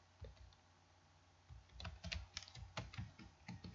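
Keys on a computer keyboard clatter in quick, uneven bursts after a brief quiet start, close and fairly soft, with no voices.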